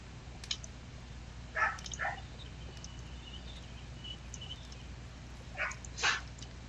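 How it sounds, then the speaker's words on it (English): A dog barks in the distance at a truck in a driveway, a couple of faint pairs of barks over quiet outdoor background noise. "Sounds like my little one's barking at the truck in the driveway."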